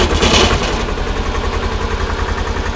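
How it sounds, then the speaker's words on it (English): An old manlift's air-cooled two-cylinder diesel engine runs steadily at idle nearby, a loud, even, rapid chugging pulse that carries on throughout with no pauses. "It runs, and it runs really, really well. A lovely air-cooled two-cylinder diesel."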